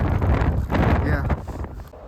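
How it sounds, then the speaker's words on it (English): Outdoor wind buffeting a microphone beside a fully extended antenna, a dense, rumbling, continuous roar lasting about two seconds, loud and close, masking everything else. "Yeah, it's windy"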